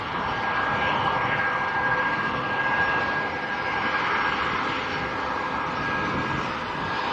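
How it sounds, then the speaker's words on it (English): A Ryanair Boeing 737-800 MAX jet departing the airport for Tenerife South, its engines a loud, steady broadband roar with a thin whine on top, sustained throughout. "next to go, Ryanair to Tenerife South. 737 800 max."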